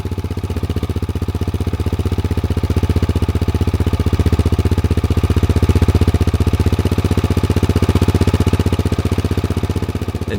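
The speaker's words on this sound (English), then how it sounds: "here's the exhaust note at idle." A Honda XR650L motorcycle fitted with a LeoVince X3 Evo exhaust idles steadily and loudly nearby, giving a rapid, even thumping pulse with no talk over it.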